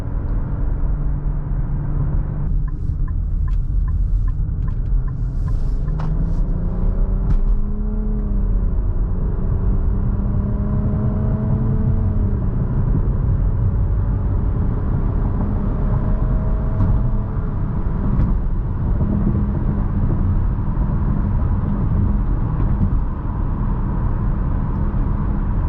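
A 2023 Nissan Rogue SUV with a 2.5-liter four-cylinder and CVT transmission cruises along, its cabin filled with a steady low road rumble and engine whir that swells and eases gently throughout.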